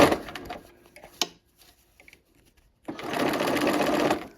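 A sewing machine stitches curved quilt piecing, with a short burst of loud stitching at the start and a steady, close run of stitching in the final seconds, broken by quiet pauses and small handling sounds.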